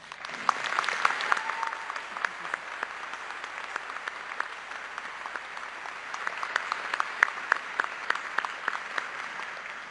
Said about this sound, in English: Please join me in giving John a round of applause.